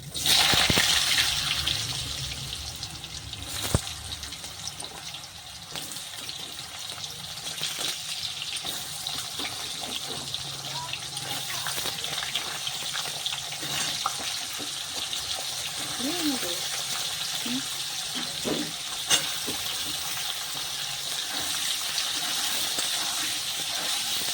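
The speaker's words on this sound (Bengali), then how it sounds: "তারপরে এই আলুগুলো একটু ভেজে নেব।" Potatoes with whole spices fry in hot oil, making a constant hissing sizzle with occasional clinks and a little faint talk in the background.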